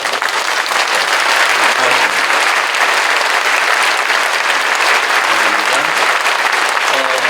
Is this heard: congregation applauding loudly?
yes